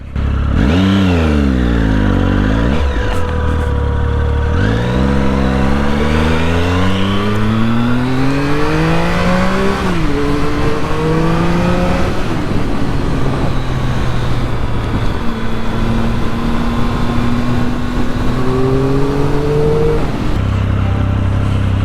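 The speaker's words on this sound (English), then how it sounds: "This is a very fast bike." A very fast motorbike roars loudly and up close, its engine revving up through repeated rising gear sweeps with brief drops between shifts, a continuous strident howl throughout.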